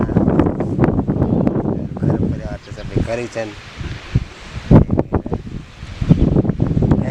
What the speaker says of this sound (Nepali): अब हावा चल्या छ